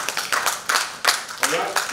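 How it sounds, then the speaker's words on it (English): Scattered clapping from the audience at a 2022 corporate governance conference, a few uneven bursts of hand claps mixed with murmuring voices. "another round of applause"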